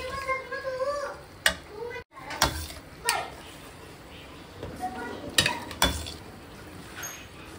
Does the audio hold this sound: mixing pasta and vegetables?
yes